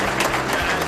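An audience claps for returning reserve soldiers, a brief burst of dense, steady applause filling the whole moment.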